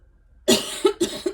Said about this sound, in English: I'm gonna cough, hold on.